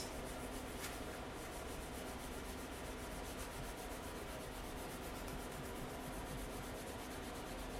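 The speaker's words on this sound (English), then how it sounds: "just rub gently to remove that chalk paste" A board eraser rubs chalk paste off a board in a continuous, even scrubbing hiss that is close and steady throughout, with no voices.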